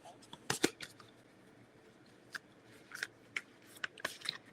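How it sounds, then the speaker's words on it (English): A Mother Mary oracle card deck is shuffled by hand in a quiet room, making soft papery riffles and snaps in short irregular bursts, with faint breathy sounds between them. "I'm giving the cards a shuffle."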